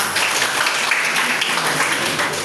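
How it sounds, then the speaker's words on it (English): Students in a classroom applaud after an individual presentation, a short burst of steady, fairly loud clapping from a small group that runs through the whole moment. "a round of applause"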